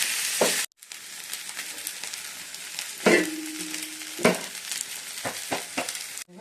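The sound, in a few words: okra and ivy gourd being stir-fried in tempering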